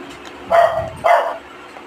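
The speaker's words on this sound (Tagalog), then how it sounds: "maingay yun din yung aso ko" A dog barks twice, loud and close, in quick succession, then goes quiet.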